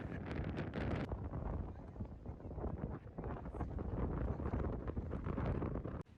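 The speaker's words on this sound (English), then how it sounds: "This poor Coleman tent did its best, but just couldn't stand up to that wind." Strong wind roars and buffets a Coleman tent at a campsite in Wyoming's Medicine Bow National Forest, a continuous loud rush with flapping gusts, close to the microphone.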